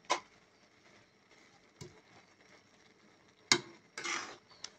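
Rice vermicelli noodles being stirred in a pan to dry them out, giving a few soft scraping clatters and light taps spaced through an otherwise quiet stretch.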